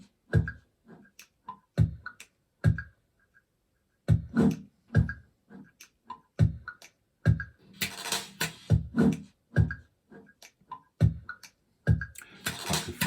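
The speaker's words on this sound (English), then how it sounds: "I've just highlighted the rhythm track only," Isolated rhythm track from a pop song, a dry pattern of short percussive hits with crisp clicky accents and brighter noisy bursts later on, steady and fairly quiet with gaps between beats and no voices.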